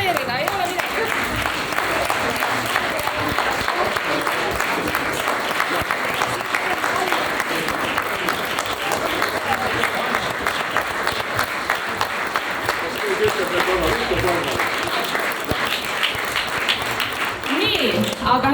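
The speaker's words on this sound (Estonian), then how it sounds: "Võite veel aplodeerida, ei ole midagi." An audience applauds at a 75th birthday celebration event, with steady, dense clapping that stays loud for about eighteen seconds and a murmur of voices mixed in.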